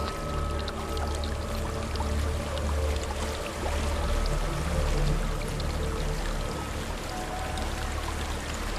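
A waterfall rushes in the video game Hellblade: Senua's Sacrifice, a steady, dense wash of pouring water filling the whole stretch with no voices over it.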